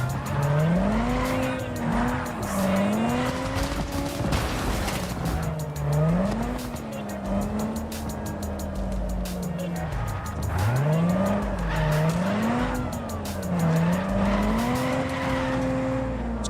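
A car is driven hard in Cyberpunk 2077, its engine revving up and down in wavering surges while tires squeal and skid repeatedly throughout, loud and close, with no speech.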